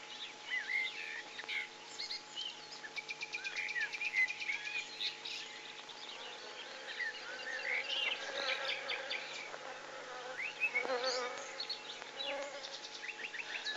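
Honey bees and flies buzz steadily close by around a camp in the Kalahari, with crickets and faint bird calls in an outdoor background.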